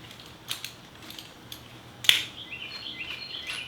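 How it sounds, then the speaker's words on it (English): Wrench or ratchet clicks while loosening and removing the top bolt of a 35-year-old Honda Shadow motorcycle fork: a few sharp metallic ticks spaced apart, with the strongest one near the middle, over a quiet background. "I'm just going to loosen this bolt here and just remove it entirely."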